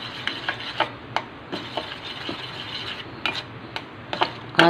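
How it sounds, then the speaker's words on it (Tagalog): Pancake batter ingredients being stirred together with egg in a bowl, giving a steady close scraping and swishing with irregular sharp clinks of the utensil against the bowl, and no voices. "Mix lang natin yung mga ingredients, mga kataba."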